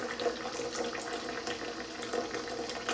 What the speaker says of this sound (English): Just stir it up and then just keep running cool water on it till it's very cold.